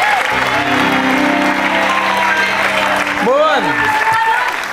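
TV game show studio audience applauding on a family quiz show set, clapping running under sustained musical tones and a host's voice, with a short spoken word breaking in near the end.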